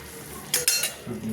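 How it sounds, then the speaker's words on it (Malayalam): A spoon stirs Kerala-style varal fish curry in a pan, making two or three quick, close scraping strokes over a low cooking background. "എന്നിട്ട് ഒന്ന് ഇളക്കി കൂട്ടി നോക്കാം."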